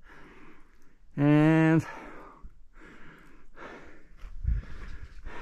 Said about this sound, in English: Sorry, my heavy breathing.